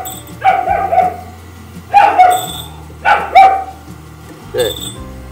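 A dog near a sawmill barks several times in loud, close yips and woofs spaced a second or so apart, over a low machine hum with a voice mixed in.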